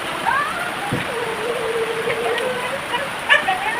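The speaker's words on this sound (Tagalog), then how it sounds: "Ang lakas ng ulan, grabe," Heavy rain pours steadily, a dense wash of water noise close by, with faint voices and a brief thump partway through.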